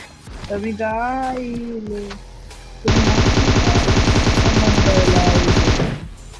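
M4 rifle fire in a battle royale video game rings out as a sustained, loud burst lasting about three seconds. An earlier stretch holds a rising, wavering tone before the shooting starts.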